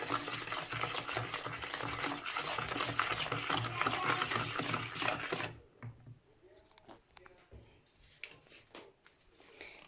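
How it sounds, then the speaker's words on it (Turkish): Apple cake batter with warm water and baking powder being stirred in a bowl: brisk, rhythmic scraping and sloshing for about five seconds, then it stops, leaving only faint clinks and rustles. "Birazcık karıştırıp kabartma tozunu da ilave edeceğim."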